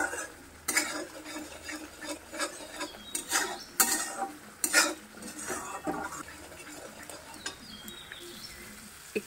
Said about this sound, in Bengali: তারপরে ভালো করে ভেজে নিচ্ছি